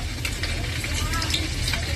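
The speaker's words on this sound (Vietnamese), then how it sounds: "Nghe xèo xèo nè." Breaded shrimp and spaghetti sizzle and crackle steadily as they fry in oil in a pan, a close, continuous hiss with bursts of popping.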